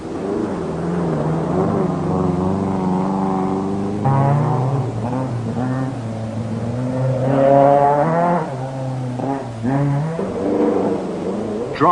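Rally cars at the 1973 Rally 1000 Lakes in Finland roar loudly along dry, dusty stages, with engines rising and falling through gear changes as cars pass close by.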